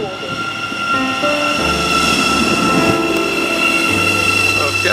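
A passenger train rumbling steadily along the track, loud and continuous, with a low droning hum and faint wheel noise.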